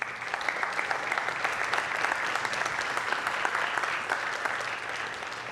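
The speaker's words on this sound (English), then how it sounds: "Give a round of applause for Dr. Robert Franklin, KCSM Station Manager." An audience applauds Dr. Robert Franklin, KCSM station manager, at a Martin Luther King 2026 music event; steady, even clapping from a sizeable crowd, moderately loud and sustained throughout with no break.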